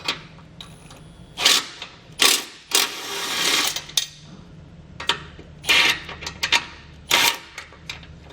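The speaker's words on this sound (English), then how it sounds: "So you grab a socket and extension to get them removed." A socket and extension work 14mm bolts loose on a 2019 Toyota Corolla while a base plate kit is fitted, giving bursts of ratcheting clicks separated by short pauses, loud and close with no talking.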